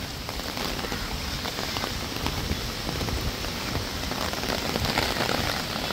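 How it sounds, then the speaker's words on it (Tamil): Sudden rain in Goa, India, patters hard on surfaces all around, a dense, constant hiss of drops with no voices. "மழை வந்துருச்சு கைஸ், திடீர்னு மழை வருது."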